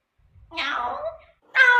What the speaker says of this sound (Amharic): ይሄ አስቸጋሪው ድመት ነው።